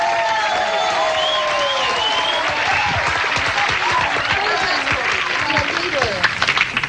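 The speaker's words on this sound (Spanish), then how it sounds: "vamos con el aplauso fuerte de ustedes a Ángelo." Studio audience at a Halloween guessing game with competing teams gives loud, sustained applause, with dense clapping that builds toward the end while excited voices and shouts ring over it.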